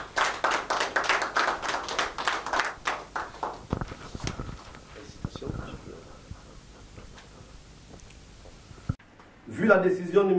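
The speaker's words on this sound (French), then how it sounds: "nous vous demandons de l'applaudir très fort" Applause at a Congolese association gathering in the United Kingdom, as someone comes forward to receive a notification letter: a burst of clapping that rises, then thins into scattered claps before a brief voice cuts in.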